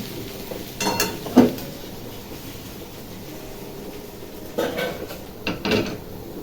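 A vegetable fry sizzles quietly in a pan while being stirred slowly, with a few scraping, clattering stirs near the start and again near the end over a soft background hiss.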